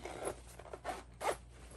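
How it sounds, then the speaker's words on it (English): Zipper on a handmade fabric pouch pulled open in three short, close rasping strokes, with no talking. "make sure that our zippers are open"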